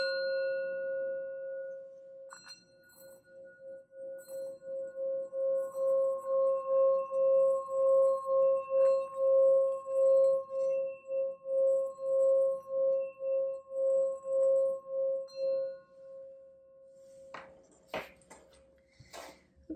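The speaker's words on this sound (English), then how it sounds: "let's ring the sound bowl here" A singing bowl struck once and rung around its rim, giving a steady sustained tone that pulses in long even swells for about fifteen seconds before fading, alone with no talk.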